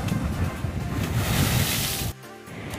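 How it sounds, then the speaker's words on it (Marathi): Loud, continuous surf roar of sea waves breaking close by on a beach in Malvan, with wind buffeting the microphone, then a sudden drop to a quieter wash of water. "लाटा खूप मोठ्या आहेत पाठीमागे"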